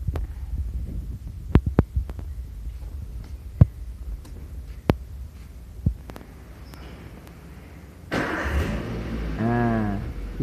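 A Toyota engine with its IAT sensor unplugged. Scattered clicks come first, then the engine cranks, catches and settles into a steady low idle hum.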